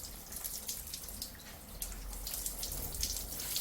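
Water pours steadily into a potted Genista (broom) plant, a soft continuous splashing and trickling close by with no voices.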